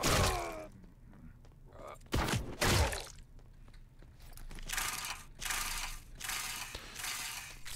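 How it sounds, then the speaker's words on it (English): In the video game Forgive Me Father 2, a hand-cranked light is wound, giving bursts of ratcheting, clicking gear noise broken by heavier thumps, fairly quiet and repeated over several seconds. "Gotta crank my light."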